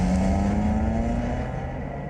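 A car speeding along a road, its steady engine drone and road rush holding loud and close before easing slightly, with no voices over it.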